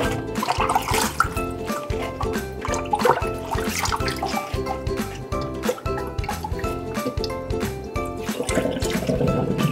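Chinese spinach washed under running water to rinse out sand: steady splashing and trickling with irregular drips and water spatter, close and continuous, without talk.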